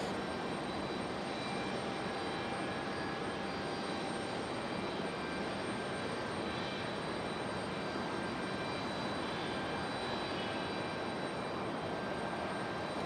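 A Breeze Airways airliner passes by at Raleigh-Durham International in stormy conditions, its jet engines making a sustained, uniform roar that continues without a break for the whole stretch, and no voices are heard.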